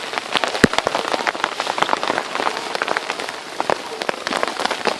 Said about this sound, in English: It's not hail, it's just fluffy cornball snow.